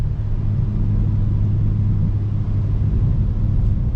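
A 2025 BMW M4 Competition's engine drones steadily from inside the cabin while driving in rear-wheel drive, a low continuous rumble with slight shifts in pitch and no talking.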